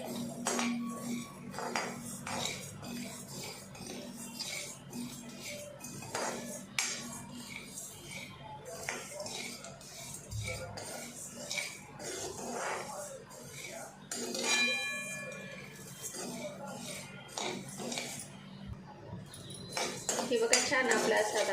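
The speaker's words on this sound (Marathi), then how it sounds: "आता याला आपण खमंग तांबूस कलर येईपर्यंत खमंगाचं भाजून घ्यायचं आहे" Spice mix for turmeric pickle being roasted in a pan, with a steady scraping and clinking of a metal spoon against the pan that goes on throughout, fairly close and moderate in level.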